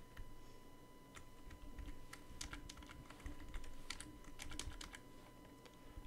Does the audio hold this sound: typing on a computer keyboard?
yes